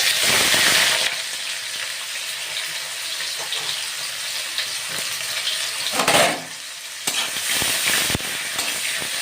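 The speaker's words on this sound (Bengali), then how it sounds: "ভালো করে লাল করে ভেজে নেবো পেঁয়াজটাকে।" Chopped onions frying in hot oil with whole spices for a Bengali katla fish curry give a steady loud sizzle, broken by stirring scrapes and a brief burst partway through.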